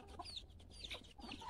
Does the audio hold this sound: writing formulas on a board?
no